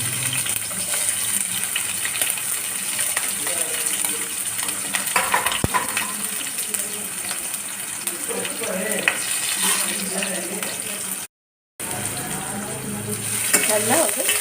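Chopped onions and green chilies fry steadily in hot oil in a pan, a loud continuous sizzle with occasional stirring clatter, close up, with a brief cut near the end.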